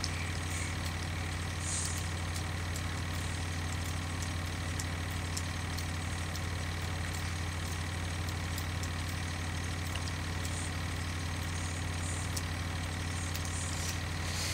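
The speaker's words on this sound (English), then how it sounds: "You got 2 tractors planting that field now." Tractor engines from Farming Simulator 2013 planting canola, a steady low droning hum that runs unbroken and fairly loud throughout, with no talking over it.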